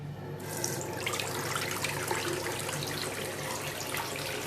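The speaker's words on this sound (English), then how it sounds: "So this is pretty much a traditional waterfall tap" Water pours steadily from a square waterfall tap into a sink, a continuous splashing rush close by with no voices.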